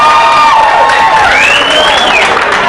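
A comedy show audience claps and cheers loudly: dense, continuous applause mixed with whoops and shouts that fill the whole moment.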